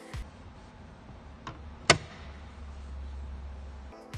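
Glovebox of a 2021 Audi e-tron 55 quattro opening and closing, a few soft clicks and one crisp latch snap in a quiet car interior, close and faint with a low background hum.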